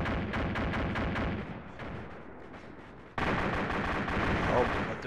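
Rapid gunfire from the Arma 2 video game during a village attack on vehicles, dense bursts of shots repeating loudly and continuously, with a sharp louder barrage near the end; a voice talks faintly underneath.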